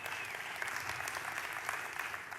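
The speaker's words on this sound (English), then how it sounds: "Let's give them a hand." An audience claps together at a talk, a dense steady wash of applause that holds evenly for a couple of seconds.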